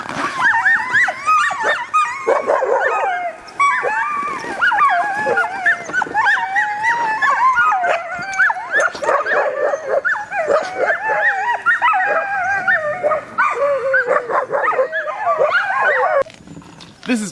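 Sled dogs in an Alaskan mushing kennel bark, yip, howl and whimper all at once, a loud, dense, nearly continuous chorus of excited voices close by.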